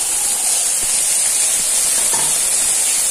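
Mixed vegetables for a soya chunks biryani go into a hot pan with tomato, giving a steady, loud, even sizzling hiss that fills the whole moment, with a couple of faint knocks underneath.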